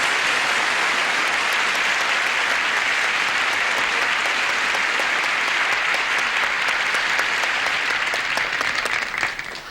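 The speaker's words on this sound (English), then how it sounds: "Will you listen to that applause?" A television studio audience at a Carol Burnett comedy show breaks into loud, sustained applause, a thick wash of clapping that stays strong throughout and thins only slightly in the final second.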